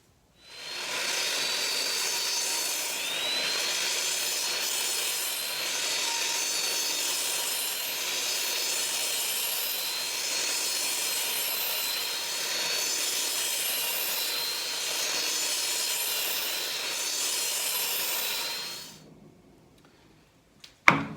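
A compound miter saw cuts cedar boards into segments, making a continuous high, rasping whine for nearly twenty seconds before cutting off sharply, followed by a brief clack.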